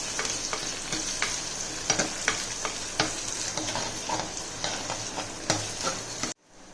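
Onions sizzle and fry in hot oil in a pan, with a spoon scraping and stirring in a steady irregular rhythm of soft clacks, close and alone, ending abruptly.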